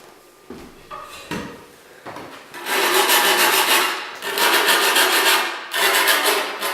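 A file is drawn across a saw blade to sharpen it, producing rasping metallic scrapes, first a few short strokes, then longer loud strokes back and forth in a steady rhythm.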